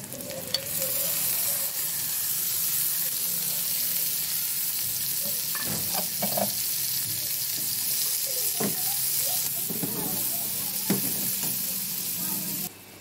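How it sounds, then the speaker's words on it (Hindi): Garlic-ginger paste, tomato and green chili sizzle steadily in a pan for an aloo methi dish, a continuous frying hiss broken by several clear stirring scrapes and clinks toward the middle and end. "अब इसमें हम लहसुन और अदरक का पेस्ट डाल देंगे 1 चम्मच और अच्छी तरह से फ्राई कर लेंगे।"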